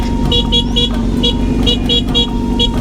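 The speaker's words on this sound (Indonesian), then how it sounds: "Bisa ngelaksonin angkot." Car horns honking amid busy Jakarta traffic, short repeated toots in a fairly regular rhythm over a constant loud rumble of engines and road noise.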